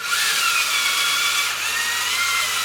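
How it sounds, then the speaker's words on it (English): A power drill bores all the way through wood with a smaller bit while a shade blind is installed on a front porch, a steady whirring drone held loud and close for a few seconds. "And then what you're going to do is drill all the way through."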